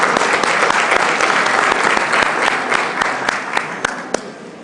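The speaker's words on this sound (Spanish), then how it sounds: "le pido que le demos un aplauso" An audience at a conference applauds for an undersecretary, a dense, steady wash of many hands clapping that gradually thins and fades toward the end.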